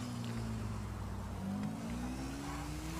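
A motorcycle engine in GTA 5 revs steadily with a droning, continuous tone that climbs slightly in pitch, loud and close throughout, with no talking.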